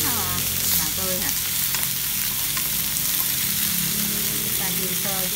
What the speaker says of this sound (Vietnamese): Chiên sơ chút xíu nha các bạn.